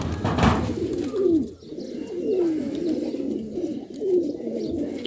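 Fighting pigeons in a loft coo in low, rolling phrases, repeating steadily and close by with a faint background hum.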